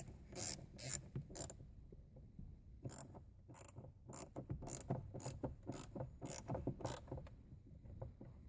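Repeated ratcheting on a headlight switch nut in a 1982-1992 third-generation Camaro dash, a quick series of clicking wrench bursts in irregular groups, close and moderately loud, with no talk.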